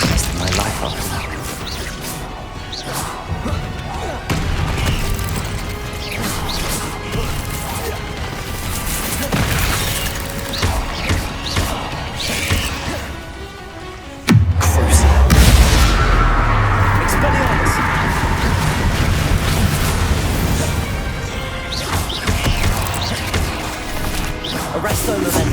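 Bombarda spell blasts go off during Hogwarts Legacy combat, with a heavy booming impact midway among whooshes and crashes, and spoken voices mixed throughout.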